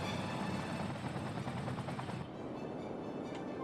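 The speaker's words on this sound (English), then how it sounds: "All the helicopters." Helicopters flying over a fire-damaged area in the city-building game Cities: Skylines, a steady, loud rotor drone with rapid chopping pulses that thins out and fades after about two seconds.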